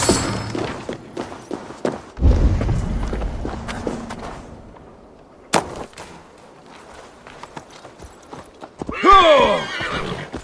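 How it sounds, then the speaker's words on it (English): A horse in Assassin's Creed Valhalla snorts and clops its hooves, with a loud burst near the start, scattered thuds and footfalls in between, and a shrill whinny rising toward the end. "Your horse is a little unsettled"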